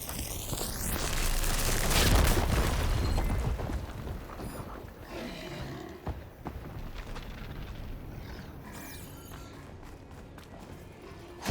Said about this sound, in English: Should be able to blow up that fire beam.